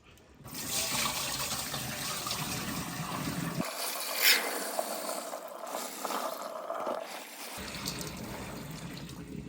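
Water swishing and running continuously as beans are rinsed in fresh water, with pouring and trickling sounds, close and steady, briefly shifting in tone midway.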